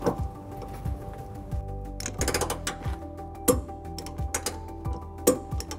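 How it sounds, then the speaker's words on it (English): A torque wrench fitted with an 11/16 socket tightens trailer hitch bolts on a Nissan Sentra, giving quiet ratcheting clicks in short irregular bursts with sharper ticks scattered throughout. "take our 11/16 socket and torque wrench and torque it to manufactured spec."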